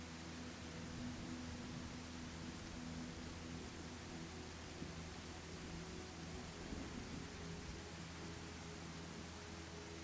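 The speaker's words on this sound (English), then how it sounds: "It's too early for a storm" Steady rain and distant rolling thunder in the video game I Am Jesus during the crucifixion scene, a constant broad hiss that stays even and fairly quiet throughout.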